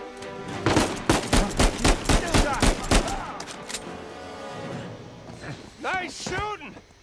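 Rapid gunfire in the video game Uncharted 4: about ten loud, evenly spaced shots in quick succession, followed by a lull and then voices talking.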